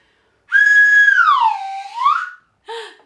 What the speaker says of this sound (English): Did you guess it was a slide whistle?